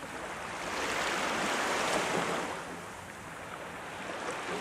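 Ocean waves wash and crash in a steady rhythmic surge, a broad close roar that swells and eases over a few seconds with no voices.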